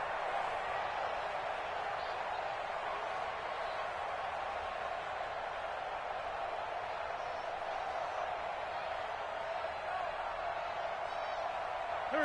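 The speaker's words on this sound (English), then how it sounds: "And this crowd urging on their defense. They're up and making noise." A stadium crowd in a PS4 American football game roars in a constant, dense wash of cheering and noise, steady and unbroken throughout.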